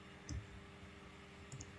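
Keys on a computer keyboard are tapped twice, a soft single click near the start and another near the end, close by and quiet in a still room.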